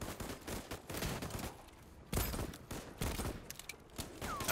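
Gunfire in the video game Voidtrain comes in rapid bursts of shots at a moderate distance, with some louder single blasts breaking through the stretches of steady firing.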